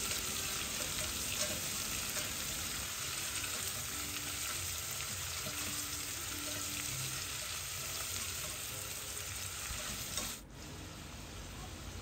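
Onions and cashews sauté in a pan for curry leaves rice, giving a steady close hiss with soft stirring scrapes that fades slightly near the end.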